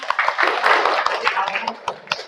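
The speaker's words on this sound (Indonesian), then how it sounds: "Tepuk tangan untuk semuanya." Clapping from a classroom group in an Indonesian school counseling session, a brisk patter of many hands that stays steady and fairly close, with voices mixed in.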